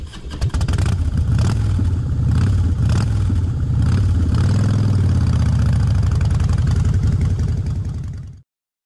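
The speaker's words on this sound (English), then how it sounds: "Motorcycle." A motorcycle engine holds a loud, steady idle close by, swells through a few revs mid-clip, then cuts off abruptly near the end; no voices.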